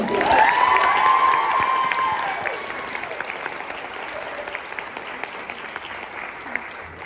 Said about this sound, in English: Please give a warm round of applause for Scarlett St. Clair.